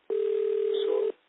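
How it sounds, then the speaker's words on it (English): A steady, continuous tone on a conference call phone line, loud and unbroken for about a second, like a dial or ring tone with no speech over it. "Phone ring is coming from your line."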